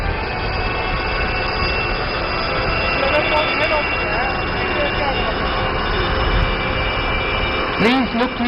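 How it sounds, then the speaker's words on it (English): Hindustan Turbo Trainer HTT-40 aircraft taking off at an air show, a loud sustained engine roar with a rising whine over steady crowd and PA ambience, a brief sweeping tone near the end. "Ladies and gentlemen, the HTT 40 taking off."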